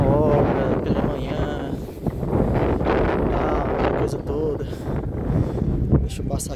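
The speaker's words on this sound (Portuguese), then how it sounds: "Eita, o vento." Strong wind blows at Matosinhos beach in Porto, Portugal, buffeting the microphone in a loud, continuous rumbling gust that swells and eases, with someone talking underneath.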